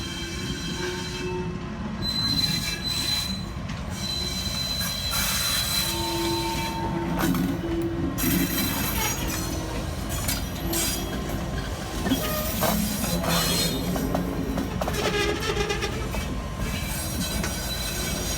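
Norfolk Southern locomotives roll past on a shortline railway, a loud, steady rumble of rail cars with squealing wheels and clanking running the whole time, close by and with no talk.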